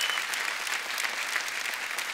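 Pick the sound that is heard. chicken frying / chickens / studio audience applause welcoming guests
studio audience applause welcoming guests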